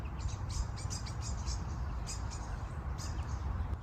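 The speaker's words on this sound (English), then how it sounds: "Boy, the birds are so active today." Birds chirp busily outdoors during a wild horse's return home, with short repeated tweets scattered over a steady broadband background rush.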